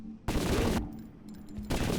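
Rapid automatic gunfire in the video game Zortch comes in two loud, close bursts, with a quieter stretch of game sound between them.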